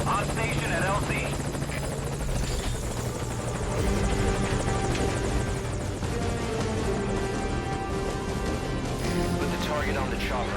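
Helicopter in the video game Metal Gear Solid V: Ground Zeroes, a steady loud rotor thrum and turbine whine running throughout, with game effects and voices layered over it.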